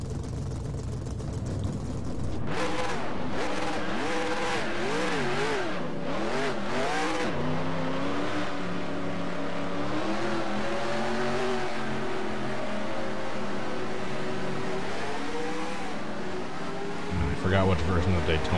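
Race car engines in the NR2003 racing video game rev and drone loudly and continuously, pitch sweeping up and down as cars accelerate, with a voice talking over the engine noise.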